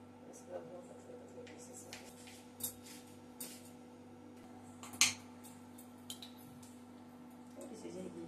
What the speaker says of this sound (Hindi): इसको पहले हम कट कर लेते हैं मिर्ची को